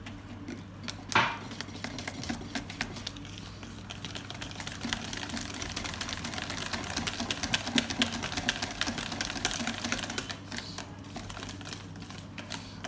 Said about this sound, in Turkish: İyice karıştırıyorum bu şekilde.